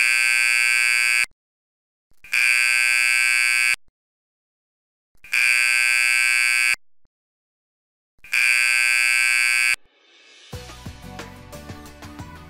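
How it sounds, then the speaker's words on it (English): An industrial plant's evacuation alarm sounds as four loud, long buzzing blasts separated by short silences, followed by a brief burst of different, busier noise at the end. "The signal to evacuate the plant sounds like this."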